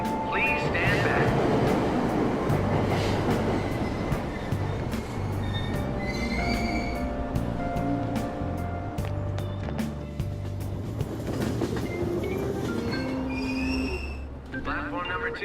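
Train departing a station in the video game Persona 5: a steady low rumble of rolling carriages with squealing wheels and door chimes, loud throughout under an announcer's voice.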